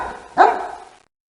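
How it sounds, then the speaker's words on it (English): A single sharp bark from a hunting dog in the 1997 Reader Rabbit PC game rings out close and loud, then trails off into silence. "Just then, a hunting dog appeared."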